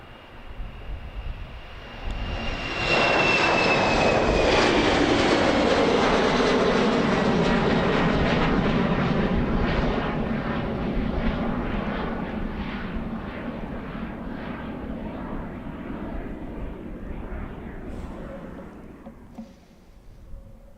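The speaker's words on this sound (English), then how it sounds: "Getting now ready, heading for Edinburgh, A320 from EasyJet." EasyJet Airbus A320 jet engines at Amsterdam Airport, bound for Edinburgh: a loud, sustained roar builds sharply, holds steady, then slowly fades as the aircraft moves away, with no talking.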